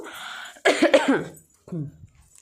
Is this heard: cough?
yes